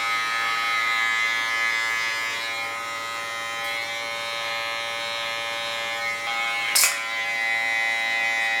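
A small electric hair clipper buzzes steadily and close up as it cuts a neckline during a haircut, its hum constant apart from a brief louder scrape near the end.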